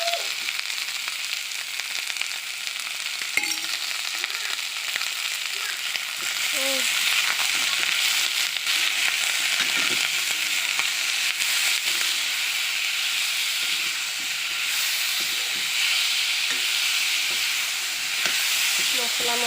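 Ginger, garlic and chili paste fries in a pan with a loud, steady sizzle and hiss, plus faint stirring clinks, close up and continuous.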